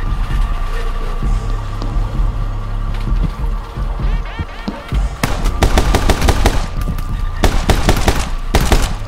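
Staccato gunfire in the video game My Friend Pedro, loud repeated sharp shots in quick clusters over a steady game music and ambience bed, growing denser toward the end.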